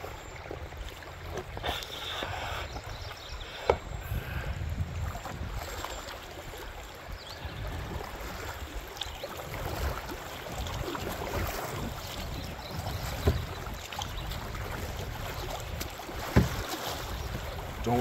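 A canoe paddled on the Saugeen River in June: soft water swishes and splashes mixed with wind buffeting the microphone, with a few louder knocks along the way.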